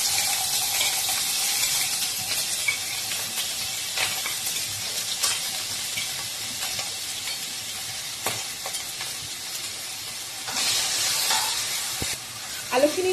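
Potato pieces drop into hot oil in a pan for an egg and potato bhurji, giving a steady, moderately quiet sizzle with occasional stirring scrapes and a brief louder burst near the end.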